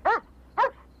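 A dog gives two short barks, the second about half a second after the first, close and distinct with quiet between them.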